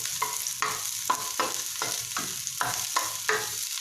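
Ingredients frying in a pan for chicken adobo give a soft continuous sizzle, broken by rhythmic scraping stirs about every half second, heard up close.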